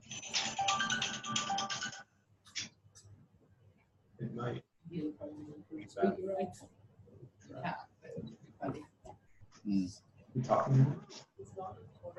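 A telephone ringtone plays loudly for about two seconds at the start of a phone call, then returns briefly near the end while several people talk over it.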